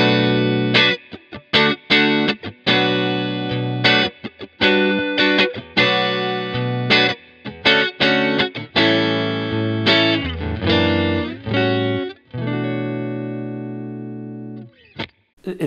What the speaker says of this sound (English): it sets you up with a basic Brit clean sound here